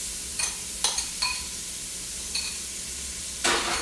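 Panko-coated shrimp frying in a pan, a steady close sizzle broken by several quick bursts of tossing and stirring, no voices.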